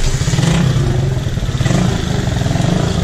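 A Royal Enfield 650cc motorcycle rumbles loudly and close on a test drive, its engine throbbing with a steady pulsing beat and a little rise in revs throughout.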